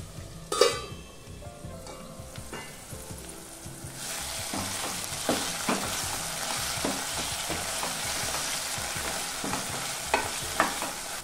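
Potato pieces and green peas fry in oil in a covered pan for aloo matar keema, a dense continuous sizzle with scattered clicks and scrapes of a spoon against the pan, steady and close with no talking.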